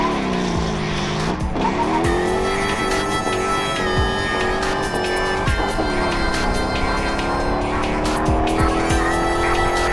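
A 1968 Mustang Bullitt replica with a fuel-injected 347 stroker V8, T5 transmission and updated suspension drives hard with a loud, constant engine roar that rises and falls through gear changes, with some tire squeal.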